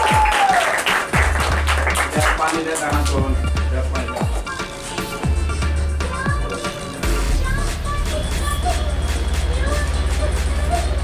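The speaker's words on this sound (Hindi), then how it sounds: "ताली बजाते एक बार भैया" Guests at a child's birthday party clap together in steady, loud applause, with crowd babble and voices over it and a low rumbling hum underneath.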